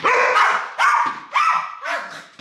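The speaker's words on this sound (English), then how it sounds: "She's barking at him." Two puppies bark close by in four or five short, sharp bursts with brief gaps between them, loud and clear with no talking over them.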